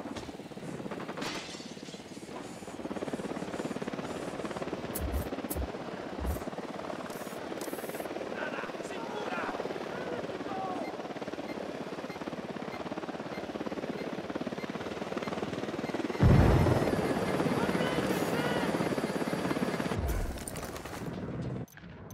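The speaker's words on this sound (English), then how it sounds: "Drone." A drone flies in Ghost Recon Wildlands, making a steady whirring, helicopter-like rotor drone that runs through the clip, with brief sharp bursts and a louder surge near the end.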